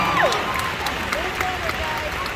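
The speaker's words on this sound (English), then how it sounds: "Give them a round of applause." Fan expo crowd at a celebrity panel in Dallas applauding and cheering, a broad steady wash of clapping with scattered whoops and voices rising over it throughout.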